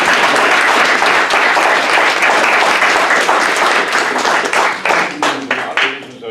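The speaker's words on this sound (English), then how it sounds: "I think he deserves a huge round of applause here" An audience at a library talk claps in warm applause, a dense burst of many hands that holds steady for several seconds before thinning into scattered claps and fading out.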